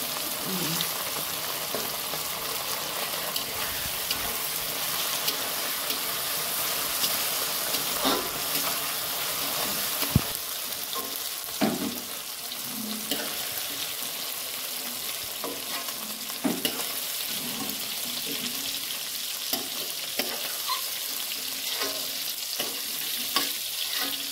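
Tomato frying in a pan for a paneer makhana dish, a steady close sizzle with occasional stirring clinks and scrapes running throughout, with no talk over it.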